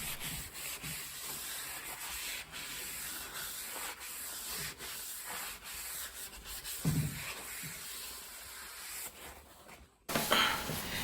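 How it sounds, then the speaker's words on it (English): Brake cleaner is used on both faces of a rear brake disc from a Skoda Superb with an electronic parking brake. Steady close rubbing and spraying continue for around ten seconds, followed by a brief pause and then a louder burst. "use brake cleaner to clean both sides of the brake disc"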